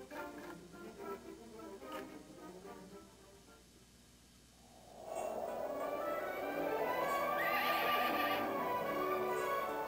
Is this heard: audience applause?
no